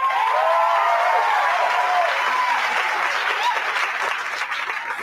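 A live audience at an evening social event applauds steadily, a dense wash of clapping from many hands that holds strong for several seconds before tapering slightly at the end, with no talk over it.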